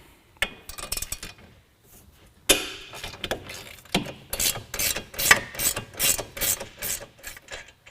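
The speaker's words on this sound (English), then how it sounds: "Now we're going to take off the top control arm bolt." A ratchet wrench loosening the top control arm bolt on an ATV during a CV axle install, bursts of rapid close clicking after a couple of sharp metallic knocks.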